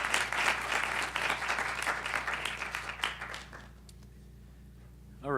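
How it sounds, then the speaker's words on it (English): Loud audience applause fills the first three and a half seconds as a dense, steady round of clapping, then fades quickly into quiet room tone with a brief sound at the very end. "Let's give him a big round of applause."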